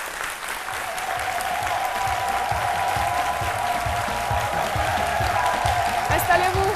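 A studio audience at a midday television talk show applauds a guest steadily, the clapping dense and even throughout, with a faint tone running underneath.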